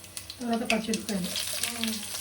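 Green chillies hit hot oil already holding cumin, fenugreek and garlic for a bottle gourd dal rasam tempering, giving a steady close sizzle and crackle with a voice talking over it.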